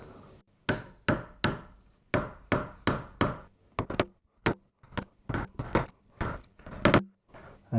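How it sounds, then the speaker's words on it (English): A chisel is struck to cut out wood while a traditional carpenter's mallet is being made, giving a close series of sharp, dry knocks at a fairly even pace, about a dozen and a half blows, each ringing briefly, with no speech. "Now we'll start chiseling that out."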